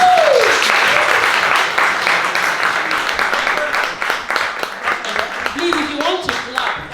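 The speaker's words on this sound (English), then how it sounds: "Please, if you want to clap, clap" An audience claps in a steady dense wash through most of the stretch, thinning toward the end as scattered voices come through underneath.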